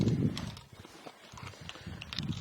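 A bridle horse's hooves thud and shuffle as it side-passes over logs, low muffled steps in short clusters at the start and end, with a rider's voice giving cues in between.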